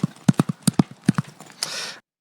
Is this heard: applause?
no